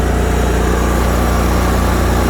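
John Deere 345 lawn tractor engine at full throttle in a yard after a cold start, a loud, close, steady mechanical drone with an even pulsing throb that does not change, heard on its own.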